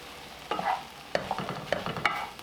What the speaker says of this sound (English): we're going to let this saute for a couple of minutes